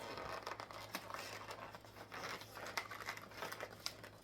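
Plastic wrapping on chocolate packaging crinkles and crackles continuously at close range, with sharp rustling bursts and brief tearing sounds, no voices.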